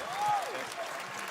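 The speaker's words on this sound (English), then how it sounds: "Obligatory audience applause." Brief burst of audience applause at a live game showcase, moderately loud, with a whistle rising and falling over the clapping before it thins out.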